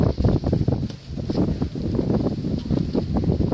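Gusty wind blows outdoors, buffeting the microphone with loud, uneven rumbling surges and rustling that swell and ease throughout.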